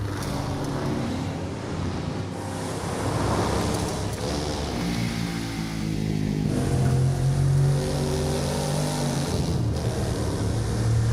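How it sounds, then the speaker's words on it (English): An off-road car in a Ubisoft video game roars steadily as its engine revs and surges over rough natural terrain, loud and close throughout, with shifting pitch as it accelerates. "Forge your own path off-road through the striking beauty of nature."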